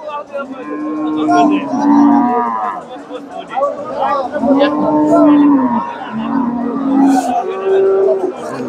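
Cattle moo repeatedly and loudly nearby at a cattle market, several long lowing calls in a row, with people talking in the background.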